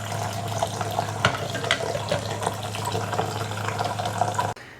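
Tap water runs steadily into a kitchen bowl or sink to rinse blueberries with a little salt, a close continuous splashing stream that cuts off abruptly near the end.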